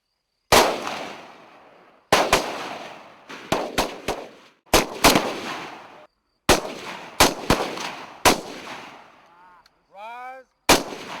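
A FAMAS rifle fires at targets on a military range, about a dozen sharp, loud reports coming singly and in quick pairs with short echoing tails and silent gaps between them.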